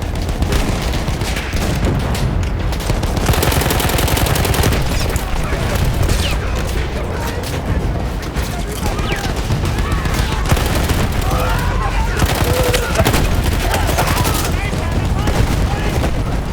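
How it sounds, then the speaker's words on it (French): Sustained gunfire and explosions from a World War I battle in the video game Battlefield 1, with loud dense bursts of shooting and booms continuing throughout, mixed with battlefield noise and some voices. "Je suis à court de munitions"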